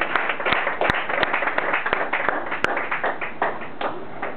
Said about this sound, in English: give these guys a hand clap of praise